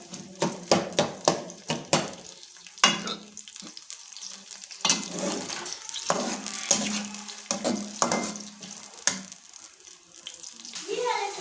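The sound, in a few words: onions frying golden in pan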